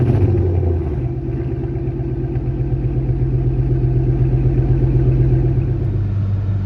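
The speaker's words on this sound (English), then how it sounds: "So I'm going to start the car." A car engine starts cold and runs at a steady low rumbling idle close by, with no one talking.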